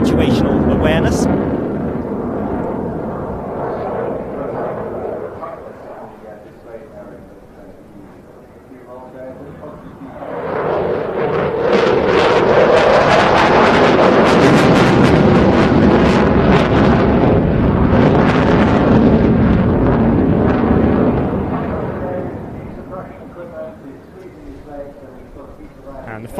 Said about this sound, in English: the final manoeuvre now as the Typhoon approaches on the B-axis for the last time